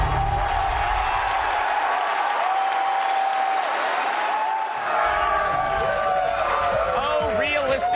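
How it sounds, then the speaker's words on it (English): A large crowd at E3 2010 cheers and applauds loudly, with whoops and a steady roar of clapping; excited voices and shouts rise above it, strongest in the second half. "And the crowd goes wild."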